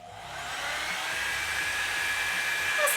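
A hair dryer on heat setting 1 whirs steadily with a loud, airy hum, growing slightly louder toward the end, with no voices.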